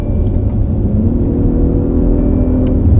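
A 2020 BMW X6 engine drones loud and close in sport mode, a steady low-pitched hum with slight rises, as heard from inside the moving crossover coupe, with no talking.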